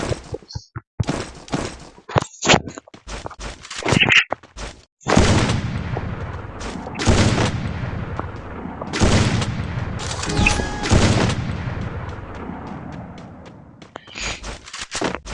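A shooting video game fires bursts of gunshots, sharp cracks and heavier booming volleys in irregular clusters, loud and close, with brief pauses between exchanges.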